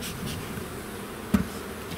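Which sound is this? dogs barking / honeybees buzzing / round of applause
honeybees buzzing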